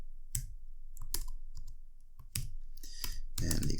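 Sparse clicking keystrokes tap on a computer keyboard during HTML coding, a few isolated clicks and short bursts, close and quiet, under a faint voice.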